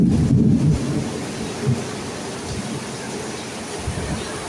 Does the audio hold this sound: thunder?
yes